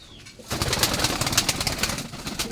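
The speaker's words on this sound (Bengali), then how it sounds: "তাহলে আমাদের কবুতরগুলো একটু দেখেন কেমন হয়েছে" Pigeons coo softly nearby, their low murmurs mixed with rustling and fluttering.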